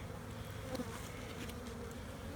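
Honey bees buzz steadily around an opened hive with laid-up supers and drone brood. The hum is dense and continuous, near and fairly quiet, with a few individual bees droning louder as they pass close.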